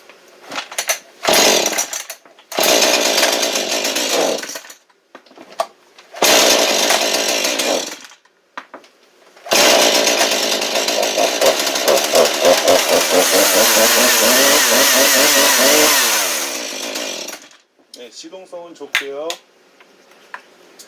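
A Husqvarna chainsaw is pull-started several times, sputtering briefly, then catches and runs loudly for several seconds before cutting out; nearby voices briefly talk.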